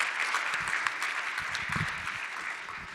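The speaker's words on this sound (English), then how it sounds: "A round of applause for all of them." Crowd applause at a small-town pitch event for startup founders, steady clapping from many hands at moderate level, fairly even throughout with no talk over it.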